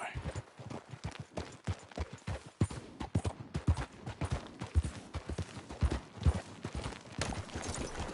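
Rapid clip-clop of horse hooves at a steady gallop in the video game Red Dead Redemption 2, close and continuous, with a faint background hum.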